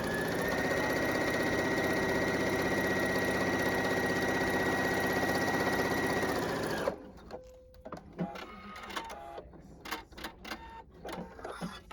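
A sewing machine stitches quilting lines on a lacy zipper bag in a steady, fast motor hum for about seven seconds, then stops, leaving scattered soft handling clicks and rustles.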